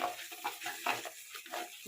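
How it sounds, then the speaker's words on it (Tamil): A spoon stirs coconut and gram paste into a potato and moong dal salna in a pan, giving soft, intermittent scraping and gentle sizzling strokes that are quiet and close. "நல்லா கிளறணும்"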